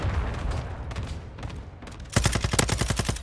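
A hard-kicking gun firing in Call of Duty: Modern Warfare 2, scattered shots at first, then a loud, fast automatic burst of close, punchy reports.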